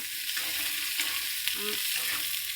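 Ridge gourd frying in a pan as it is stirred, a soft steady sizzle with faint scraping pulses of the spoon, close but quiet, no one talking.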